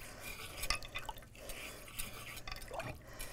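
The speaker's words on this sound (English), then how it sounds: "I'm just going to rub that off with water" Etching cream being rubbed and rinsed off a glass with water at a kitchen sink, faint scattered drips, splashes and small glassy clinks and rubbing sounds, close but quiet, with no talking.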